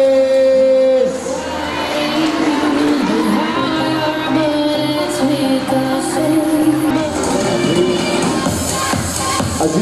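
A crowd at a children's baby football awards ceremony in El Carmen makes loud, continuous noise, with cheering, children shouting and whoops over a bustling background and a tone at the start.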